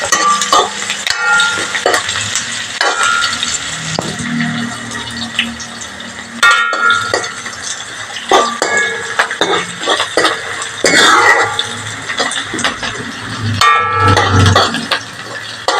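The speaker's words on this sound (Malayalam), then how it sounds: "ഇതങ്ങ് മൂത്ത് വരുന്നവരെ നമുക്ക് ഇളക്കിയെടുക്കാം" A spoon stirs sambar ingredients in a metal cooking pan, producing loud, close, irregular clinks and scrapes against the pan over a faint frying sizzle, with no talk.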